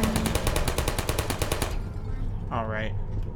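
Automated turret gunfire in the video game Portal rattles as a dense, loud burst of rapid shots that stops abruptly partway through, followed by a brief electronic whir.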